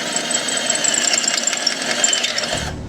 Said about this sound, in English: this little rivet down here, and this is kind of what's blocking us right now. So we're gonna drill through it